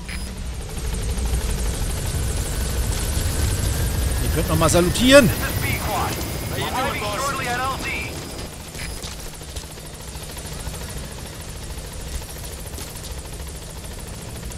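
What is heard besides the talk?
helicopter from Metal Gear Solid V video game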